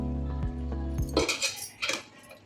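Chicken dum biryani being stirred in a pot: a low steady hum gives way to sharp metal clinks and scrapes of a utensil against the pot, a few close clattering bursts.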